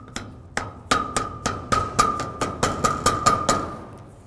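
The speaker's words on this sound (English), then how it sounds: "that just simply goes on with a rubber hammer" A rubber mallet taps a plastic cap on a shed about a dozen times in a steady rhythm, each knock sharp with a faint ringing tone, close by and alone.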